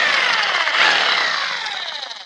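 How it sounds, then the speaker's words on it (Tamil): A power drill bores into a wall to mount an Airtel DTH satellite dish, a loud, close, continuous high-pitched grinding whine that holds steady and slowly fades toward the end. "ட்ரில் பண்ணிக்கலாம்."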